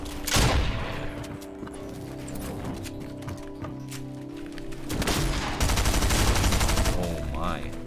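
Video game gunfire in Fortnite, with rapid bursts of shots and booming blasts clustered near the start and again in the last few seconds, steady game ambience in between.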